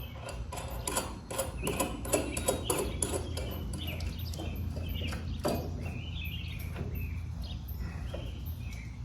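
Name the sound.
running bolt through metal on UTV jack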